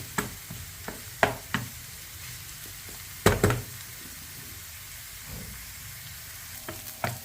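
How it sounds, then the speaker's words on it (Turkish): Onions sizzle in a hot pan with a steady crackling hiss, broken by a few louder scrapes and clatters as they are stirred. "Soğanlarımı çok iyi bir şekilde kızarttım."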